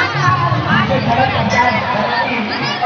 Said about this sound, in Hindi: तो देखियो कते भीड़ है।